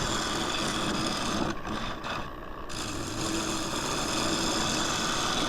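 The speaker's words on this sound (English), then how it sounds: "This is my M42 Crown Cryo. And it's my 1/2 inch bowl gouge. And it is cutting really nicely." An M42 Crown Cryo half-inch bowl gouge cutting a Splitsuarina wood bowl on a lathe, making a continuous close rasping hiss with a brief lighter dip midway and no talking.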